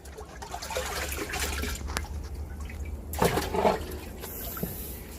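Irrigation water flowing into a farm field during water management, a steady rushing, gurgling wash that continues throughout with a brief louder surge midway, heard up close and alone.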